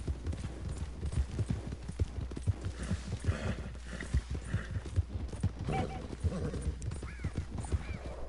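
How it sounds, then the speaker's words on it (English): Horse hooves clip-clopping in a steady trotting rhythm in Red Dead Redemption 2, fairly quiet and continuous under game ambience. "of course you got bucked off your horse, and you jumped on a friend's horse"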